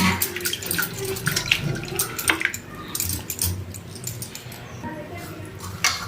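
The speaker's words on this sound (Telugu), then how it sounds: "రెండు మూడు సార్లు కడిగేశానండి అటుకుల్ని కూడా" Thick flattened rice (poha) is rinsed by hand in a bowl of water for idli batter, giving continuous splashing, swishing and sloshing at close range, with a voice speaking over it.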